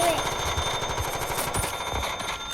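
Rapid gunfire in a video game where players are chased by dumplings, a steady loud burst of shots running the whole time over game noise.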